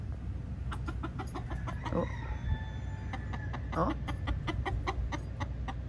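Chicken clucking in repeated short bursts close by, mixed with a steady low background rumble and occasional brief human exclamations.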